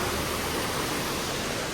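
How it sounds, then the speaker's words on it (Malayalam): A waterfall roars as a steady, dense wash of rushing water during a monsoon ride in Coorg, close and loud, with no talking. "വാട്ടർഫാൾ"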